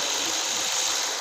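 A Ford Fusion engine idles steadily in a mechanic's shop after starting, a low, even hum with a faint mechanical rattle and no talk.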